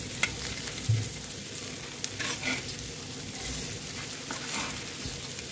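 Eggs frying on a tawa griddle over very low gas for tava anda masala, a soft steady sizzle with occasional light spatula taps, close and alone.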